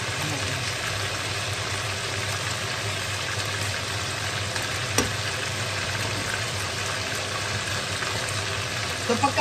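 Chicken frying in hot oil while being cooked for spicy ginataang adobo, a steady dense sizzle with crackles and a few sharp pops near the end, heard close up with no talk.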